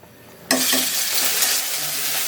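Tempering of nigella seeds, bay leaf and dried chilli hitting hot oil for a cauliflower and fish dish, bursting into a loud, close sizzle that starts abruptly and holds steady.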